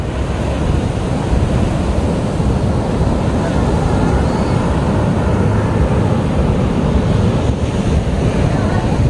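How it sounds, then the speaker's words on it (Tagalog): Sea waves wash onto the beach at La Union in a continuous loud roar of surf, with wind buffeting the microphone throughout. "So, medyo malakas yung wave"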